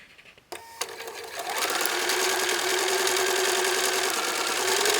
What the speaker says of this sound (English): line it up and stitch over here at 1/4 inch seam